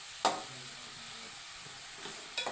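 Onion greens in hot oil being stirred for ulagaddi palya, with a faint steady sizzle beneath a few sharp scrapes of the spoon against the pan, quiet and close.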